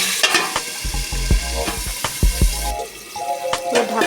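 Vegetables frying and steaming in a covered pan, with sharp clanks and stirring scrapes over a crackling sizzle, loud and close.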